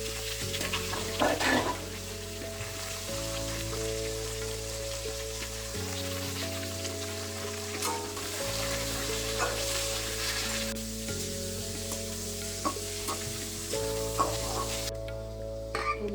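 Mango pieces fry in mustard oil with mustard seeds and a dry red chilli in a wok, giving a steady close sizzle with occasional stirring clicks under a constant background hum, with no talking.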